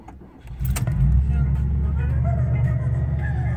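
A 1984 Buick LeSabre Limited engine cranks briefly and catches, then settles into a steady, close idle with a low rumble that holds to the end.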